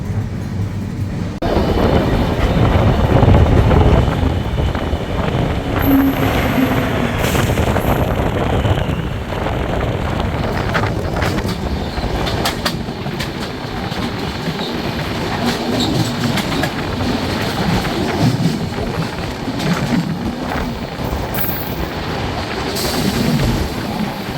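Intercity Express 20452 on the Delhi to Sogaria route rumbles along steadily during a crossing with the Awadh Express, with continuous wheel clatter, occasional squeals and wind buffeting the microphone.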